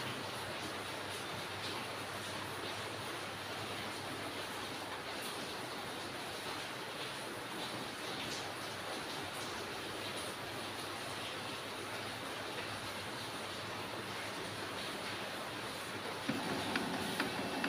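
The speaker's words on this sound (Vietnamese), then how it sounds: "máy in đang khởi động lại" An HP LaserJet M236sdw printer restarting after a Wi-Fi reset: a steady, faint mechanical whir and hum with its motor turning, continuous throughout with a slight shift near the end.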